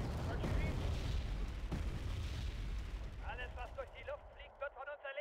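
Mortar barrage in a video game, a dense run of loud booms and blasts for the first few seconds, then thinning out as chirpy game effects take over, with a voice talking over it.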